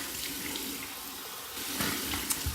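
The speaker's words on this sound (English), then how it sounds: "here's my cold water rinse" A cold water rinse runs from a bathroom tap during a Merkur HD 34C shave, a steady splashing stream into the sink, close and continuous with a brief surge near the end.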